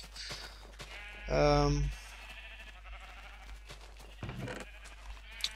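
A single loud, close sheep bleat from the Minecraft video game lasts about half a second, then quiet game ambience follows with a few soft thumps.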